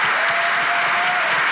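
Loud, dense applause from a studio audience on a Turkish talk show, a steady continuous roar of clapping with no speech.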